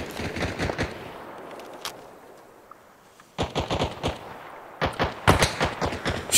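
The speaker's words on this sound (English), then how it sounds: "That was friendly firing to your right." Friendly rifle fire rattles in the Vietnam-jungle setting of the shooter game Arma Reforger, with rapid bursts of sharp reports in clusters separated by a quieter pause, fairly close and loud.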